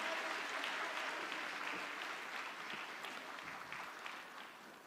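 A church congregation at a special early-morning revival service claps together in a sustained round of applause that slowly fades, with no voices over it.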